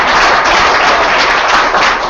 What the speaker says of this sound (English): Stauffer, a big round of applause just because we're here.